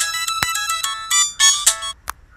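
An incoming call sets off a loud, close phone ringtone, a chirpy melodic sequence of quick repeated tones with brief gaps, playing alone with no speech.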